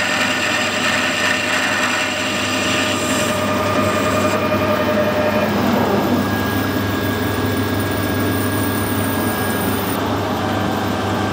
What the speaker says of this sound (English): This is bronze, machining very nicely.